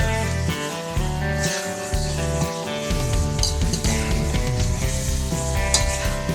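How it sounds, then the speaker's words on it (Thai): Pork stir-fried with curry paste in a pan for a Trat-style pork curry with chamuang leaves, giving a steady close sizzle and some stirring under prominent background music. "ผัดหมูกับ เครื่องแกงนะครับ"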